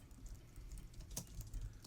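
Quiet typing on a Logitech Craft keyboard with chiclet keys, a soft, faint patter of keystrokes with one slightly sharper tap, heard close without talk.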